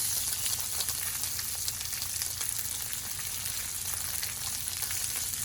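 Rainbow trout, seasoned inside and with some fins left on, frying in oil over medium heat: a steady, dense sizzle with crackling pops, continuous and close, with no talking.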